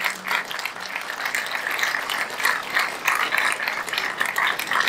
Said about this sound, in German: Ja, das ist mal ein Applaus wert.